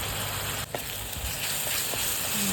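Green masala chicken, ground raw green paste with chicken, roasting in a pan with a soft continuous sizzle, faint and steady with a brief clatter of a utensil partway through.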